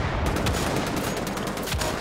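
Gunfire in Wolfenstein: The Old Blood rattles rapidly and without a break, dense and loud throughout.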